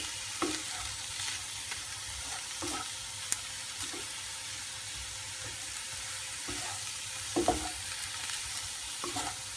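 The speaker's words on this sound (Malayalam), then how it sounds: "ഫ്രൈ എന്ന് പറഞ്ഞാൽ ചെറുതായിട്ട് ഇതൊന്ന് വഴറ്റുന്നുണ്ടേ" Prawns sautéing in a pan for a Kerala-style prawn roast, with a steady broad sizzle and intermittent scraping stirs of a spatula, close and continuous with no talk.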